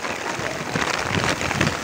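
Rain and wind in a storm on the Tarumã Mirim river make a dense, steady hiss of drops, broadband and close, with gusty rushing swells.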